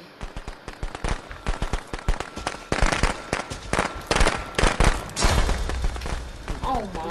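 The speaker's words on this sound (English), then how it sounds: "Oh, the fireworks got me" Fireworks explode in a video game, a rapid crackling barrage of sharp bangs that builds into dense overlapping bursts, with voices talking in the background.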